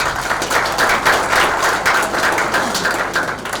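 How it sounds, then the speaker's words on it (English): After a tech talk on on-device AI, the audience gives a round of applause: an even, continuous spread of many hands clapping at moderate volume, without clear individual claps standing out. "Please give a big round of applause for Mr. Kartikey Rawat."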